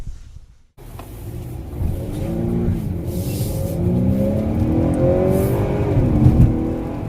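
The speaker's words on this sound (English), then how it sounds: "They pump in the engine sound." The engine of a 2019 Honda Accord 2.0T Touring, with engine sound piped into the cabin, revs and climbs in pitch, loud and close, with a steady rising roar after a brief drop at the start.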